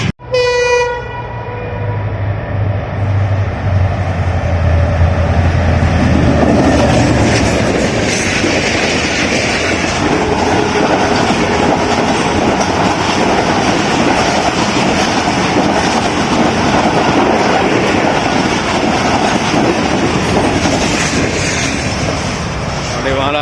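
The Millat Express passenger train passes close by with a loud, sustained horn blast at the start, then a long roar of wagons and rhythmic wheel clatter carrying on steadily to the end.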